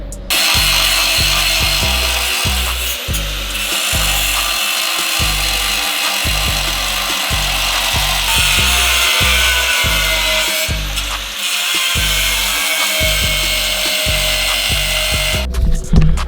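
A cut-off tool with abrasive cutting discs works on a Subaru VA STI during a turbo install, a loud, continuous grinding screech with a steady rhythmic pulsing throughout and no talk.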